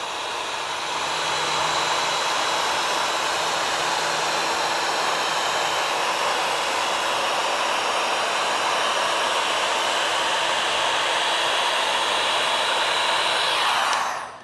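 A heat gun blasts hot air onto vinyl wrap on a car fender, a loud, steady broadband whoosh that holds for over ten seconds before cutting off abruptly.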